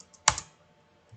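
A single key press on a computer keyboard while working in 3D structural modelling software: one close, crisp click, followed by quiet.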